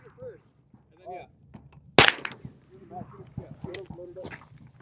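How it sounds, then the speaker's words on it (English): A single loud gunshot at an outdoor shooting range cracks out once near the middle, with people talking before and after it. "I'll let Peter shoot it first."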